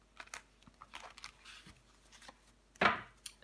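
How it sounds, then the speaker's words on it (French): Tarot cards flipped over one at a time on a table during a reading, giving a few faint, crisp papery flicks, with one louder, sharper snap of a card near the end and a quiet pause between. "Je vais recouvrir des cartes"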